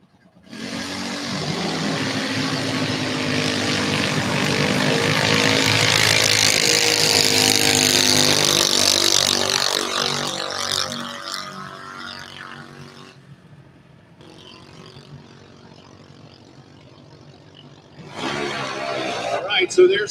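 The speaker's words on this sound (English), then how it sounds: "So there's the burnouts." Drag racing cars do burnouts at a Houston drag strip, with a loud, sustained engine roar that swells and fades under a commentator's talk, then a fresh burst of engine noise near the end.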